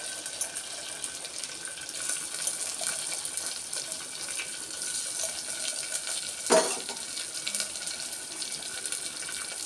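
Small dried fish frying in a clay pot along with ash gourd, a steady wet sizzle and crackle, close and moderately loud, with one sharp stirring clatter midway and no talking.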